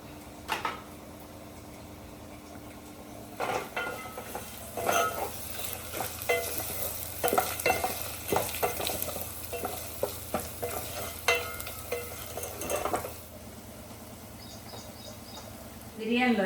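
Onion, carrot, ginger and mint fry in a pan for Telangana-style bagara rice, with repeated close spoon scrapes and stirring clatter over a steady low sizzle.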